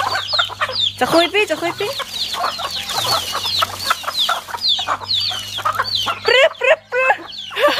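Chickens clucking busily and close up as they are fed at a rural home, with a continuous chorus of clucks and squawks while someone talks and calls to them.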